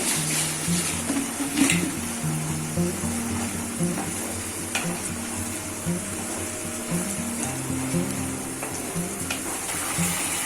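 Onions fry with sugar in a pan for masoori chicken, a continuous loud sizzle close by, broken by repeated scraping strokes as they are stirred; no voices.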